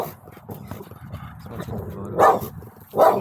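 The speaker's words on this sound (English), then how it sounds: "Dude, there's so many dogs." Several dogs at an abandoned-feeling property give short barks and yips, two louder bursts standing out near the end over a background of mixed dog noise and people talking.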